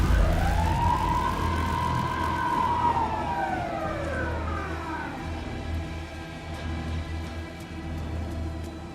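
A police car siren wails in the video game Alan Wake 2, one long rising and falling sweep heard at moderate distance over a low engine rumble, then fading into a softer steady drone.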